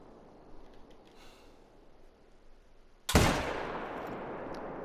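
A single loud rifle shot rings out at about three seconds in a whitetail deer hunting video game, then trails off in a long echoing decay over quiet ambience.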